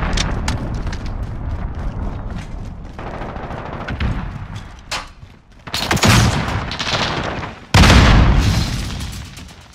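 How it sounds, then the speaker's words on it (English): Cruise missile strike in Call of Duty, heavy booming explosions and rumbling blasts in quick succession, loud and close, with two big impacts near the end. "Cruise missile incoming, take cover!"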